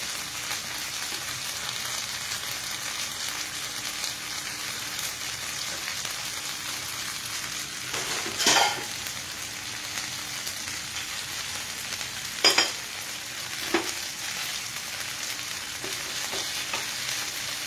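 Food fries in a pan with a constant crackling sizzle, broken by a few sharp stirring clatters and scrapes near the middle and end.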